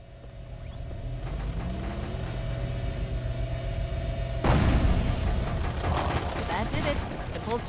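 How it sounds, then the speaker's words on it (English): A pulse generator overloads in Halo: Combat Evolved: a steady electrical hum with a droning tone breaks into a loud, sudden rumbling blast midway, followed by crackling, sputtering energy discharge. "The pulse generator overloaded."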